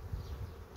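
A faint, low insect buzz hums close by, a honeybee from a Varroa-afflicted colony droning softly and continuously for a moment.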